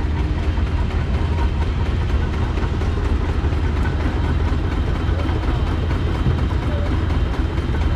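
A steam tractor powering a miniature sawmill at an annual steam show, a steady low engine rumble running continuously and evenly throughout, with no cutting heard.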